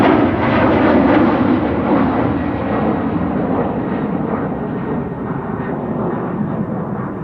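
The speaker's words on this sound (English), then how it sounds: "Air France, Embraer 190." An Air France Embraer 190 jet at Amsterdam Schiphol Airport gives a loud, steady broadband engine roar that holds for several seconds and eases slightly toward the end, with no voices over it.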